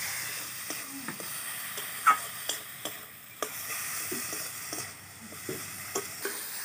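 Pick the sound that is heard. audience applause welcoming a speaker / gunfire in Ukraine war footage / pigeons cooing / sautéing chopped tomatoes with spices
sautéing chopped tomatoes with spices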